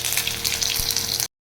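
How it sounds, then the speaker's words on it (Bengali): Water poured from a tap-like stream into a pan of frying spices with cumin and turmeric powder, a close, steady rushing gush with sizzle that cuts off abruptly after about a second. "জল দিয়ে দিলাম।"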